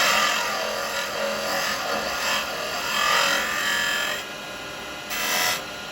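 A tenon tool scrapes and cleans the bottom of a wooden piece spinning on a lathe during spindle turning, giving a steady, close, rasping hiss that swells and eases for several seconds, then drops briefly before a final burst.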